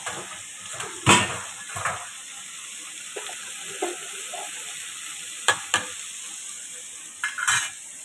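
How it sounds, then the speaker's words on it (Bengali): Food frying in a pan on a home stove: a constant soft sizzle runs throughout, punctuated by occasional sharp clinks and scrapes of a spatula stirring, close by and with no speech. "এখানে ফ্রাই হচ্ছে, ফ্রাই করে নিচ্ছি একটু"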